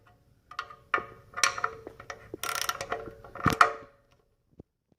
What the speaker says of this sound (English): let's start by removing these three 12 millimeter fasteners holding on the muffler